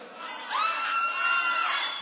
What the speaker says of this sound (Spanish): Dale, entonces, aplausos para José Antonio